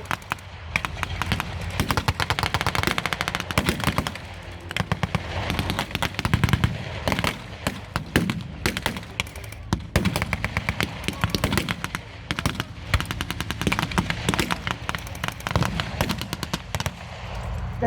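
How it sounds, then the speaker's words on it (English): Rapid bursts of .50 caliber machine gun fire from an M8 tank in a World War II battle game, loud sustained rattling volleys broken by short pauses, with battle noise throughout. "The 50 cal gun on the M8 tank inflicts more and more damage on the German forces."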